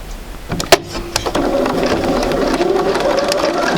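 A sewing machine stitches a quilt block, with a few sharp clicks at the start before a steady, loud mechanical whir settles in close by.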